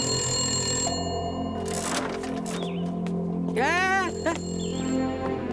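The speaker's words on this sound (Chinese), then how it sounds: "我去接一下电话啊。" A telephone rings with a bright electronic trill over a busy background of tones and voices, the ring repeating in short bursts.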